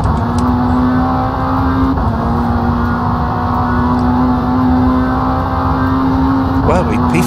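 Race car engines roar at a steady, loud pitch throughout a rFactor 2 racing game session, with a brief dip and a short rev near the end and a voice talking over them.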